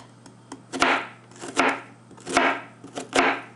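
A dull knife chops through a peeled, halved onion on a cutting board: four firm, evenly spaced thuds, each with a short crunchy slice, close and clear with no voice.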